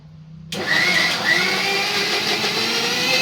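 A mixer grinder grinds peanut chutney powder, switching on abruptly after half a second and holding a loud, steady whirring grind with a high motor whine throughout.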